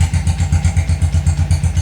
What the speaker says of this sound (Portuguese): eu acabei de ligar depois de colocar o escapamento